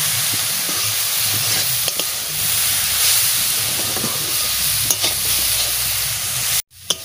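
Grated coconut is stir-fried in a pan until reddish for pithe, giving a steady close sizzle and hiss with occasional scraping stirs, ending in a sudden cut and a brief knock.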